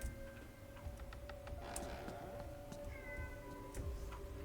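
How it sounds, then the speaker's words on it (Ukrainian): A cat meows in The Coma 2B: Catacomb, sounding near and moderately loud over a quiet ticking background. "Кличемо кота до себе, бо кіт починає панікувати"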